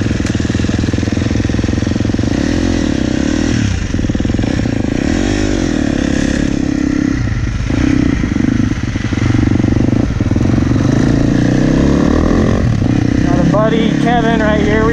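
Husqvarna TC125 motocross bike ridden with traction control switched on, its two-stroke engine droning and revving steadily throughout, loud and close, with a voice speaking over it.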